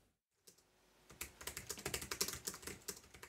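Fingers type on an unbranded plastic low-travel chiclet keyboard that resembles an Apple keyboard. After a brief silence, a few taps lead into a fast, steady run of close, crisp clicky keystrokes.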